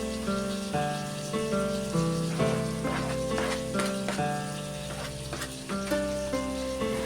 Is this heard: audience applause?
no